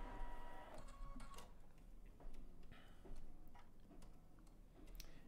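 Embroidery machine with a magnetic hoop stitching out a design, giving a steady run of quick mechanical ticks and clicks with occasional louder taps, moderately close and alone.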